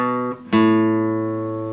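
A guitar riff note on the sixth string from a song is plucked without a pull-off: a short first note, then a sharper picked attack that rings clearly and slowly fades.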